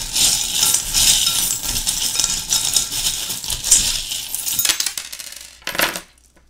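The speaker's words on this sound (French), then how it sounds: "On va prendre les breloques pour voir ce qui ressort." Small metal tarot charms clink and jingle as they are gathered up by hand, a bright, busy rattling close by that gives way to a short final jingle and then quiet.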